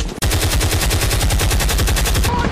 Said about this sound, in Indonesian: Peluru melesat, bom meledak